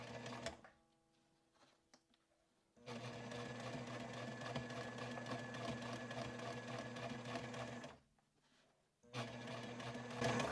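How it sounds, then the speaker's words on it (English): A sewing machine stitches a mesh pocket onto a sling liner, running in long steady whirring bursts with short pauses as the fabric is pivoted. "sew up, do a stitch or two across the top, pivot down, and finish basting it along the edge"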